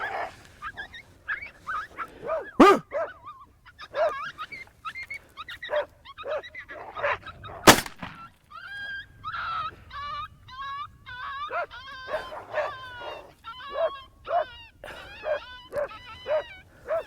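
A dog barks and whimpers on and off in short bursts, close by, alongside a couple of sharp loud bangs, with no one speaking.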